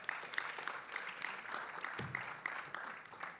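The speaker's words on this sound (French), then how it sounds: "merci d'accueillir avec beaucoup d'applaudissements, Lucie Bache" Applause from a festival crowd greeting a speaker at a web conference, a thinner, uneven patter of clapping with distinct individual claps standing out, moderately loud and without talk.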